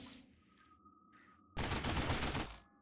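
Magnum units in the video game X-Division open fire in a dense, roaring burst of gunfire lasting about a second, preceded by quieter game tones and blips, with no talking.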